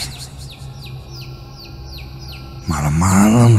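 High, repeated chirps sound in a steady series, followed by a burst of louder, messier calling that takes over near the end.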